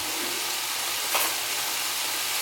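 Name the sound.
butter sizzling in a hot pan with garlic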